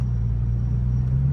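A car engine holds a low, steady rumble close by, with no clear rise in revs while the driver is on the gas during a driving lesson.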